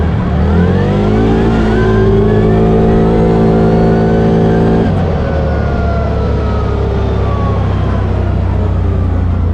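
A CFMoto ZForce 800 Trail side-by-side, the 2023 second-generation model, accelerating hard with a loud, close engine note that climbs steadily in pitch, drops at a shift midway, then holds a strong steady drone.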